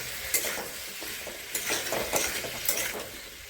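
Teasel gourd frying in a pan with salt and turmeric, a steady close sizzle broken by several stirring scrapes, with no voices.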